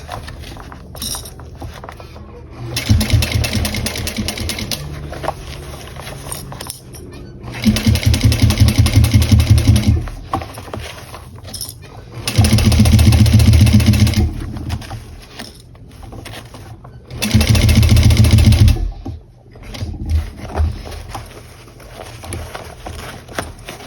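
A sewing machine top stitching a small bowler bag runs in four loud bursts of fast, even whirring, separated by quieter pauses with faint handling noises.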